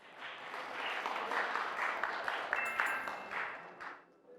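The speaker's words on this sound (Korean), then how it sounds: "우리 남원주 중학교 친구들을 박수로 맞아 주시기 바랍니다" Applause welcoming a middle school student team onto a stage at a mock-trial competition, a steady wash of clapping from a seated audience that swells and holds for several seconds before tapering off.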